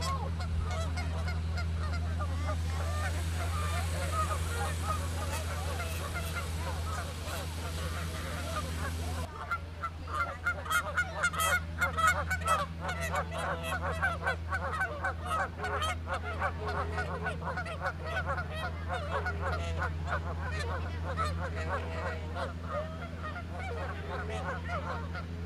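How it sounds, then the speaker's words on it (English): Canada geese flying overhead above a zoo give a steady chorus of overlapping honks that carries on throughout, fairly loud and continuous, with a low hum running underneath. "You can hear the Canada geese flying overhead."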